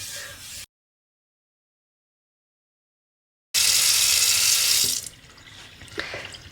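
Kitchen sink being washed and scrubbed with a sponge and a little water, heard as a loud close rush of running tap water after a silent gap, then fading to softer splashes and scrubbing.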